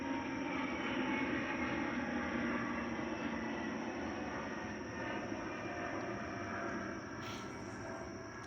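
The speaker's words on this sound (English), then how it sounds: "plane is passing by" An airplane passing overhead, a broad steady engine roar that fills the scene and eases off slightly toward the end.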